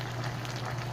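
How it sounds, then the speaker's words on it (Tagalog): A pot of pork bone stew bubbles steadily at a continuous simmer, a dense, even gurgling wash close by with no talk over it. "Patuloy siyang kumukulo mga kaibigan."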